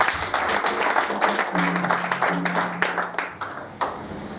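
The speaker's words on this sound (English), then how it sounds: "Can you clap for Jesus?" Congregation clapping during a church deliverance service, rhythmic hand claps in a moderately loud crowd with a sustained tone, likely voices or music, running underneath.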